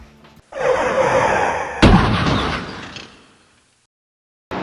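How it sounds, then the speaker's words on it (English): A self-squeegeeing glass shower door in an RV slides along its track with a loud, close rolling whoosh that ends in a firm thud, then fades to silence. "there's a full shower in here with the self-squeegeeing door"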